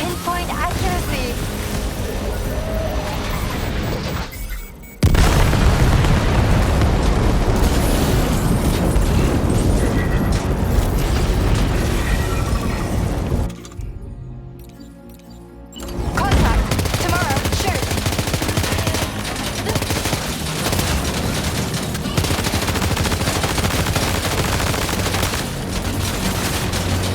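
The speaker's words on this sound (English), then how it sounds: "Opening fire." Gunfire and explosions in Death Stranding 2 on PS5 Pro: dense, loud sustained bursts of shooting and booms, dropping briefly into a near-silent lull around the middle before the barrage resumes, with voices mixed in.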